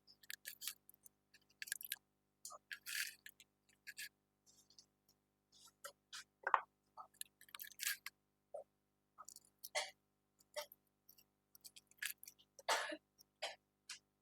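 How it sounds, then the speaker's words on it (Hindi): A child coughs and clears the throat in short, scattered bursts, some sharp and clustered, across a quiet room with silent gaps between them. "फिर भी खांसी आ रही है?"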